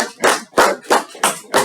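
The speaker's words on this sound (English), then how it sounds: "Give a round of applause for me" A handful of claps at a Toastmasters club meeting, about five sharp, evenly spaced hand claps close by, each separated by brief silence rather than a full round.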